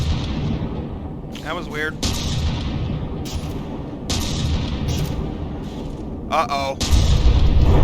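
Heavy battleship guns in From the Depths video game boom in a rumbling, repeated barrage of deep blasts, loud and continuous, with someone talking briefly over them.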